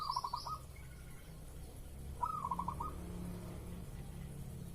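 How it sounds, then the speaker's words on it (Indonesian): A zebra dove (perkutut) coos twice, the rhythmic trilled phrases soft and somewhat distant against steady low background hum and noise. "Kalau punya burung anggungan, pancing dengan perkutut ini bos, dijamin semuanya ngikut manggung bos."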